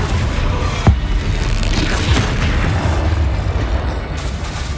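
A Confringo spell blast from Hogwarts Legacy: a single deep boom near the start over a loud, dense rushing din of combat effects, with a softer second thump following.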